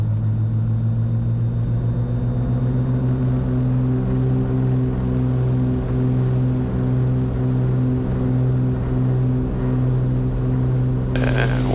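Twin engines of a Cessna 310 at high power during a takeoff roll, a loud, steady droning hum with strong propeller tones, close and continuous throughout, no voices heard.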